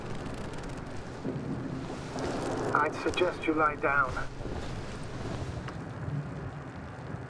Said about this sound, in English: The storm's raging.